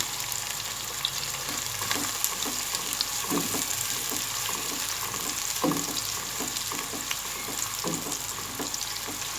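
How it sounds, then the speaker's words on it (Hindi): Sliced onions sauté in hot oil in a pot, giving a continuous close sizzle broken by repeated soft stirring knocks at an uneven pace. "ऑयल जब गर्म हो गया तो हमने प्याज डाल दी। प्याज को हम सोटे करेंगे।"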